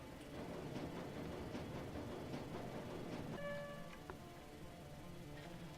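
A train in the game Shadowrun Dragonfall rumbles along with a rhythmic clickety-clack, quiet and steady, with a few faint metallic tones partway through.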